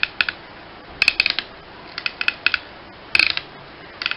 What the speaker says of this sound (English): Soft ratcheting, but there's quite a few ratchets.